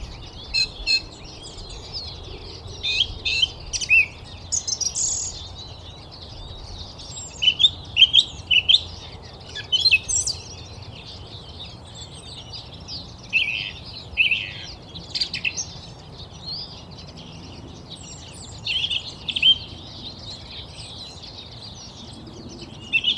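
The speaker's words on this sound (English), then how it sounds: "this lovely song thrush singing in the hedgerow" A song thrush sings from a hedgerow, its bright repeated phrases rising clearly over a steady low outdoor rumble for the whole stretch, with no voices.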